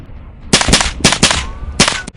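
A .22 caliber rifle fires during rabbit hunting, loud sharp cracks in a quick irregular series of about six shots over two seconds, with no talking.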